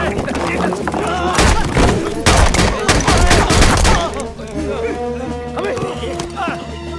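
Gunfire in a 1971 Hindi thriller movie scene, several loud heavy shots and thuds in quick succession, followed by quieter ambience with people speaking.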